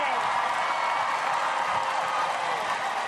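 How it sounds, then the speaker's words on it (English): A large outdoor crowd in Charlottetown, Prince Edward Island, cheers and applauds the visiting royal couple, a steady, dense roar of clapping and shouts that holds at one level throughout. "you can hear by the crowd that is one heck of a warm welcome"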